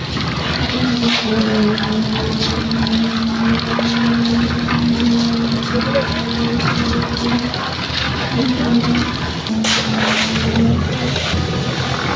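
Water gushing out steadily into a village pond, a continuous loud rushing flow with a faint hum running through it and occasional splashes, lasting throughout.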